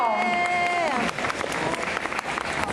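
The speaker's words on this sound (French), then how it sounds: "Et on applaudit Supergirl Lilia, ici âgée de 9 ans. On applaudit fort." An audience at a Montreal comic convention applauds a nine-year-old girl dressed as Supergirl in a children's costume contest; dense, steady clapping follows a short sung or tonal passage, with cheering under it.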